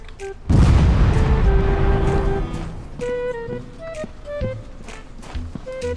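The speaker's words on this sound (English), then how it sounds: "Oh, he threw a grenade." A grenade blast in the shooter game Agent Roswell: one loud, close boom with a deep rumble that fades over about two seconds, followed by scattered game effects and chimes.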